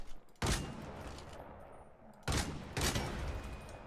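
Three loud, sharp gunshots from the video game Lost Light: one near the start, then a pair close together later, each with a short decay and no talking.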